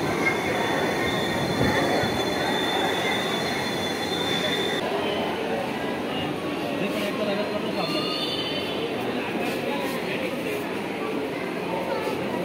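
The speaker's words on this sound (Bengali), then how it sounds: "এই তো আমরা মেট্রো রেলে প্রবেশ করতে গেলি" A metro train runs on its rails with a continuous loud rumble, whining wheel squeal and faint clicking throughout, heard from nearby as people talk over it.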